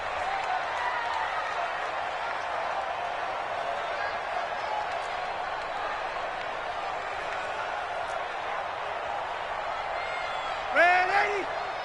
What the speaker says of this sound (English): the crowd getting into it as we come up on a big third down.